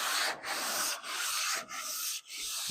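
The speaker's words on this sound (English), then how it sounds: "we're going to sand the guide coat till it's gone" A sanding block with 100-grit paper scrubs guide coat off the body of a 1970 Dodge Challenger in long back-and-forth strokes, a close raspy hiss repeated four times with brief pauses between strokes.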